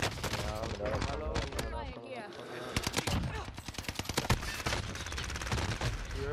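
Automatic gunfire crackles in rapid bursts during a Call of Duty Warzone match, loud and close, with players talking over it and a brief lull in the middle.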